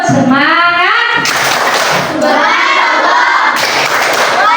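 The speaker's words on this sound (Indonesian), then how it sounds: "tepuk semangat." Children in a classroom doing a rhythmic spirit clap, loud patterned clapping mixed with shouted chanting voices in quick bursts, close and lively.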